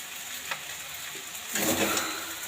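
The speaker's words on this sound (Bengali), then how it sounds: "ওদিকে আলুটা ভাজছি তারপরে ঢেঁড়স ভাজবো" Potatoes frying in a pan, a soft sizzle with light stirring scrapes, growing louder and denser in the latter half of the short stretch.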